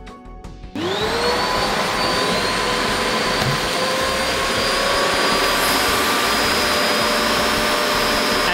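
SkyVac Industrial vacuum running at full suction while lifting 5 kg, a steady loud whine with a rising motor tone after a brief startup, continuous and alone for the whole stretch.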